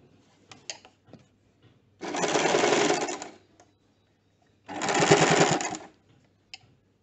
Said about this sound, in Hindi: अब इस स्ट्रिप को सिलाई को अंदर रखते हुए कंटिन्यू करेंगे और पूरे मास्क को स्टिच करेंगे।